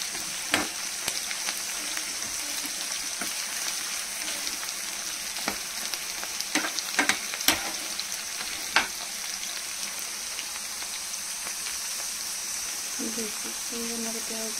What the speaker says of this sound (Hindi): चलो हम जो है कि प्याज फ्राई करेंगे। ये हमारे प्याज अच्छे से फ्राई हो जाएंगे।